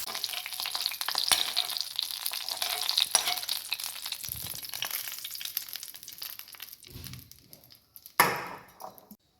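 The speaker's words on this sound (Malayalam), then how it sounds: "പട്ടപ്പട്ടയെന്ന് പൊട്ടിത്തുടങ്ങി നമ്മൾ കുറച്ച് കറിവേപ്പില കൂടി ഇട്ടുണ്ട്" Mustard seeds and dried red chillies crackle and pop in hot oil with curry leaves while a banana stem chutney is tempered. The frying is steady and dense, with a louder sizzling burst near the end and no voices.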